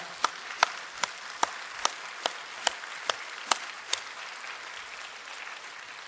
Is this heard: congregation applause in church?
yes